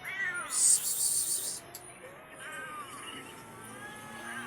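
Several pet cats meow at feeding time in a home with a dog, a few faint high mews scattered over quiet background rustle.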